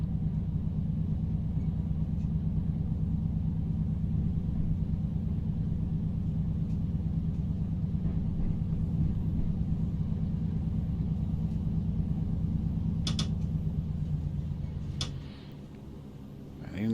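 Class 153 diesel train creeping at low speed in Train Simulator, with a steady low engine drone and a faint rhythmic ticking running for most of the clip, then a couple of brief clicks before the rumble drops away near the end.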